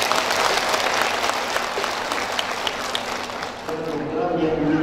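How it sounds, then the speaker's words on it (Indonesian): Loud, sustained applause fills the room from a large crowd at a charity handover ceremony for rebana drum equipment, steady throughout with voices buried in the roar. "tolong tepuk tangan yang keras untuk Bank Mandiri"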